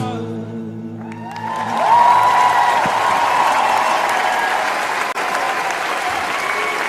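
A concert audience applauds the singer, dense sustained clapping that swells after a sung note fades at the start, with faint crowd cheers mixed in.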